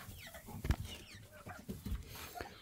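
Chickens cluck and murmur softly nearby, with a few louder squawks and some shuffling noise around them.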